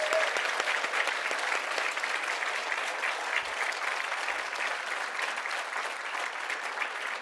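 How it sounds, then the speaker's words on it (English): Round of applause for awards ceremony winners at the Ayrshire Achieves Awards, a steady, moderately distant patter of many hands clapping evenly for several seconds. "please can we have a round of applause for all of tonight's winners"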